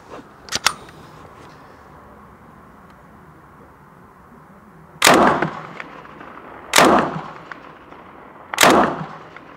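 Three loud, sharp 9x19mm shots from a STEN Mk.2 submachine gun fired outdoors toward a 100 m target, single reports spaced about two seconds apart, each with a short echoing tail over quiet ambience.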